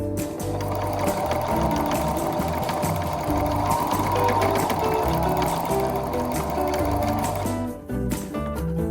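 A sewing machine runs steadily while stitching a fabric seam with a pinned edge, a loud continuous mechanical whir with rapid needle ticking that stops abruptly near the end.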